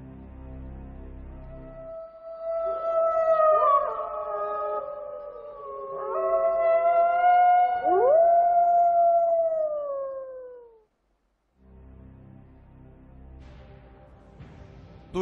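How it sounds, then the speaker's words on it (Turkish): A wolf howls in long, sliding, wavering cries, several overlapping voices rising and falling for about ten seconds, played as an audio quiz sound, then a pause before faint background noise. "Kurt uluması diye düşünüyorum."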